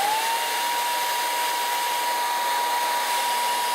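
A hair dryer set to hot and high runs steadily, blowing air into a tub while frozen rodents are warmed for feeding, a loud continuous whoosh with a constant motor whine and no talk.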